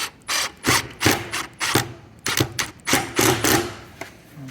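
A power screwdriver drives screws into the pre-drilled holes of a wooden bin store lid in a run of short, loud whirring bursts separated by brief pauses.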